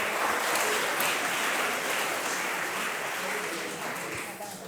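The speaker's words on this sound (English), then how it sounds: "So, a round of applause, please, gentlemen." An audience at a 2019 regional award ceremony in Eldoret applauds in a dense, continuous wash of clapping that slowly fades toward the end.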